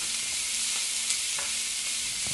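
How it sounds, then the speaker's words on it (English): Scotch bonnet pepper sautéing in a pan makes a steady, bright hiss of frying with a couple of faint stirring taps, close and continuous. "I'll be sauteing these for about 2 minutes"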